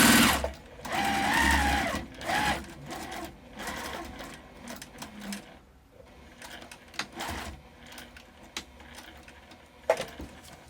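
Close sewing machine stitching straight down the edge of a jellyroll fabric tote bag, loud at first then settling into softer, uneven running with small clicks and handling noises, no speech.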